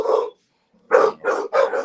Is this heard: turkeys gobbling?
no